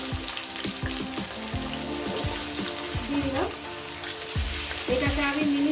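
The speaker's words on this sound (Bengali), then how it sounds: "কয়েক সেকেন্ড ভেজে নেব একটু এরপর দিয়ে দেবো আলুগুলো" Potatoes frying in a pan for a banana-flower and catla fish-head ghonto: a loud, dense sizzle throughout, mixed with tonal clanks and faint background voices.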